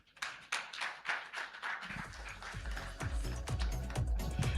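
A conference audience applauds to welcome Dr. Anurag Batra at an awards event for influential women, the clapping starting sparse and light and then swelling into a fuller, steady round of applause.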